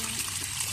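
Water poured out in a brief, steady splashing hiss, close and fairly quiet, while mud is being made for play.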